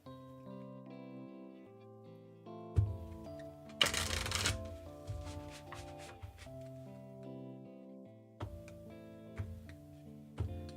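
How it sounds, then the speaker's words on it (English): A deck of tarot cards is shuffled repeatedly in quick riffling bursts, with soft clicks and taps between, and a faint melodic tone in the background. "You're getting a full shuffle, just to make sure."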